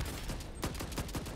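FAL assault rifle fired in single taps in the video game Blood Strike, four or five sharp shots in quick rhythm over a constant loud background.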